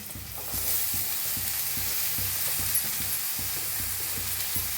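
Cabbage sizzles in a frying pan for a matar cabbage dish while a spoon stirs it with rhythmic scraping taps over a continuous hiss, close and steady.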